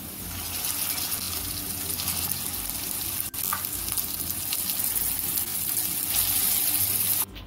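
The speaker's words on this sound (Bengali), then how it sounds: "এবার বরবটির পেস্টটা আমি এই কড়াইতে দিয়ে দেবো" Mashed yardlong bean paste frying with browned onions in a wok, a close, continuous crackling sizzle that swells toward the end, with a brief clatter midway.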